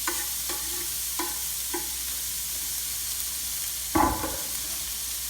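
Chopped medium white onion tossed into a hot oiled pan with caramelized bits, giving a few short sizzling bursts and stirring scrapes, then a louder hiss near the end, close by with no talking.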